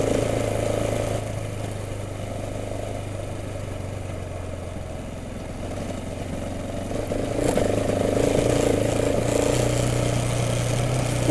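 A KTM motorcycle ridden along a sandy road on a mountain grade, its engine droning steadily at mid revs, swelling slightly louder toward the end, with no talking.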